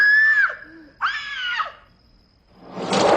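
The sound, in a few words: woman screaming in film Live and Let Die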